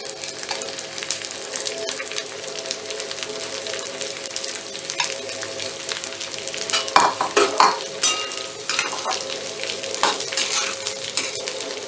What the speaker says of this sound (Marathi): एक चमचा फक्त तूप टाकायचं आहे आणि तूप वितळलं की त्याच्यावरती ही डाळ आपण भाजून घेणार